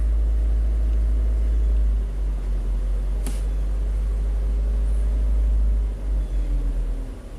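A Chevy Captiva's GDI engine, recently swapped and throwing a fuel pressure fault, idles as its RPM drops, producing a steady, heavy low rumble and a single sharp click partway through.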